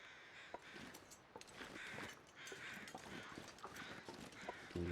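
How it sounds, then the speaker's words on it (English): Crows caw in The Long Dark, repeated harsh calls rising over a soft, steady ambient bed, fairly faint and spaced through the scene, with no talking. "See crows. Now the crows are normal."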